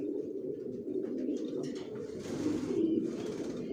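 Grizzle racer pigeons coo steadily in a loft, a continuous low murmur of overlapping coos close by, with no voices.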